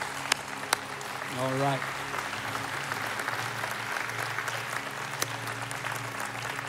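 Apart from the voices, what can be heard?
congregation applauding, hand clap of praise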